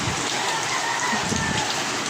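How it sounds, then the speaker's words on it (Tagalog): Heavy typhoon rain pours down in a dense, steady hiss, drumming on surfaces nearby without letup. "Ito na yung ulan guys."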